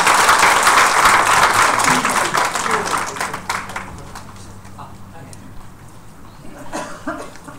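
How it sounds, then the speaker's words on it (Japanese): Audience applause at a Japanese community talk event in Akitakata, loud dense clapping at first that thins and fades to scattered claps, with faint talk underneath. "それでは改めて吉田さんに大きな拍手を"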